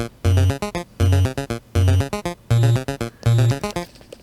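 Music from the Undertale soundtrack, the track that plays during the Toriel boss fight: a fast, driving melody with repeated punchy phrases in regular bursts, loud and alone with no voices.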